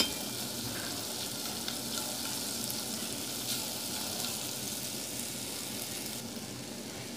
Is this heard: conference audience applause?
no